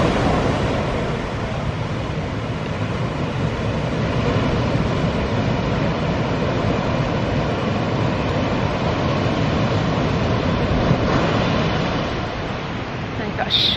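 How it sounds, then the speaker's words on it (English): Sea waves break on the shore at St Ives, Cornwall, making a steady broadband wash that stays fairly loud and continuous, with no distinct individual crashes standing out. "We've got the fantastic sound of the sea, the breaking waves."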